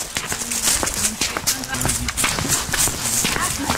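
Hooves of a horse run in a hunting video game, a quick rhythmic clip-clop of footfalls repeating steadily at close range under a voice talking, alongside game sounds.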